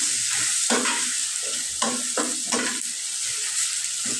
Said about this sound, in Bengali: হলুদের গুঁড়া সামান্য একটু রসুন বাটা মশলাটা ভালো করে কষাই নেব